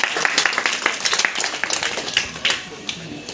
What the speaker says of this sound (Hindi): तो आप लोग आने से पहले तालियों से स्वागत करेंगे।